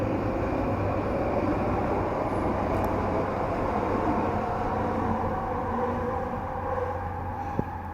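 A passing train gives a steady, moderately loud rumble that continues without a break.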